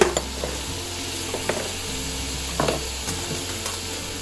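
Ingredients for a German-inspired potato salad melt down in a hot pan with a steady sizzle, broken by occasional clinks and stirring scrapes. The cooking is close and unaccompanied by speech.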